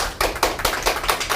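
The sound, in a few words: audience applause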